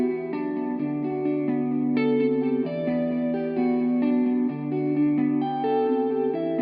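Guitar sample processed through Guitar Rig 6 and RC20 with ambience, delay, chorus and tape saturation, playing sustained layered chords with soft reverb tails, steady and fairly loud with no talking.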